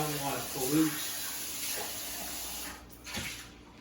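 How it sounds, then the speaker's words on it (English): Tap water runs briefly into a sink while a cocktail shaker is rinsed, a soft splashing stream up close that tapers off, with faint clinks at the end. "I gotta rinse out my cocktail shaker over here."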